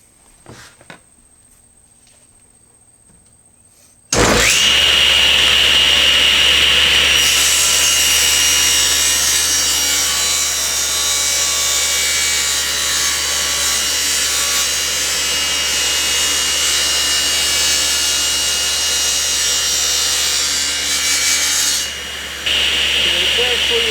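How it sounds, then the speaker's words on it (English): After a few seconds of near silence, a power saw roars into a loud, sustained test cut through Baltic birch plywood, holding a steady high whine for about eighteen seconds before spinning down briefly near the end. "I'm going to make a test cut to see if I've got it at exactly 300 millimeters."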